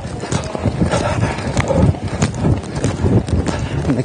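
A young dressage horse cantering in an arena, hooves thudding in a steady three-beat rhythm close by, with light wind noise and no talk over it.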